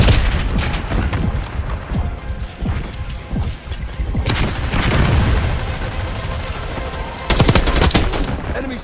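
Rapid bursts of automatic AK rifle fire in the shooter game Black Ops 6, loud and close, with sharp crackling volleys, booms and a dense layer of battle noise, and a heavy burst near the end.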